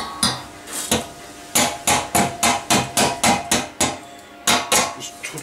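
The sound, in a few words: hammer chipping slag off a weld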